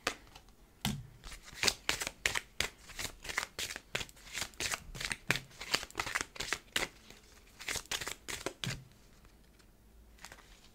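Tarot cards being shuffled near the listener, a long series of sharp papery riffles and taps with brief pauses between bursts, fading to quiet at the end.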